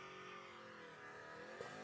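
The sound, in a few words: Ford F-150 truck engine revving with equal length headers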